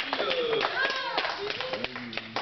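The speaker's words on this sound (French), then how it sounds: "On applaudit." A few people clap at a home birthday party, scattered sharp claps mixed with overlapping voices and laughter talking close by.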